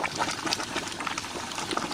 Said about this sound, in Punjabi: ਜ਼ਬਰਦਸਤ ਉਬਾਲਾ ਆ ਰਿਹਾ ਪੱਕ ਰਿਹਾ